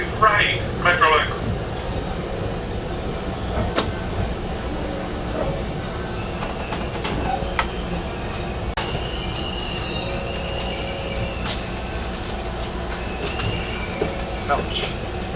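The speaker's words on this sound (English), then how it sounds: "This is Metrolink train 608. Orange County Line service 2." A Metrolink commuter train on the Orange County Line rumbles along, a steady close rolling noise with wheel squeal, clicks of the wheels over rail joints, and brief bursts of talk on board.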